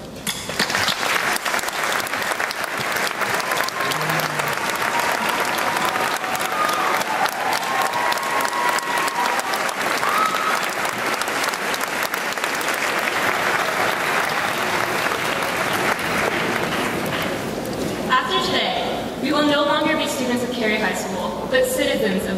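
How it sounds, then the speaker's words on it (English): Long, dense applause filling a graduation ceremony hall as graduates clap for their families and friends, a steady roar of many hands, with voices and cheers emerging toward the end. "for once, we as graduates wish to applaud you"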